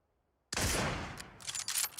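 Rapid gunfire in the battle-royale game PUBG, a dense burst of shots starting abruptly after half a second of silence and continuing loud and sustained, with further sharp cracks toward the end.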